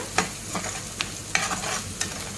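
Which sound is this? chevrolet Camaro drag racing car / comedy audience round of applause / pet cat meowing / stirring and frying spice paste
stirring and frying spice paste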